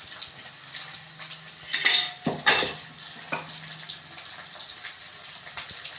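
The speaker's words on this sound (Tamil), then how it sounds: "அதே மாதிரி வெங்காயம் நல்லா வதங்கணும்." Onions sautéing in a pan for a dried fish curry, a soft steady sizzle with a few clinks and scrapes of a spoon stirring against the pan, close and without talking.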